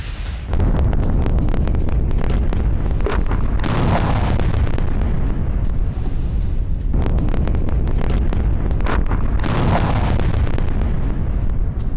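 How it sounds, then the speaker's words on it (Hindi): Heavy rumbling blasts from Israeli airstrikes on northern Gaza roll through a dense, continuous roar, with two stronger bursts standing out about six seconds apart, loud and without any voices. "इजरायली हमलों से दहला उत्तरी गाजा"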